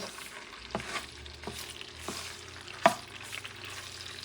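Pork stew base simmering in oil in a pot while being stirred, with a soft, low sizzle and occasional quiet scrapes of the spoon, including one sharper knock near the end.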